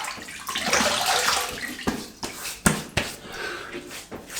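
Water runs from a tap and splashes as a face is wetted before a shave, a close, steady rushing that gives way to scattered splashes and drips.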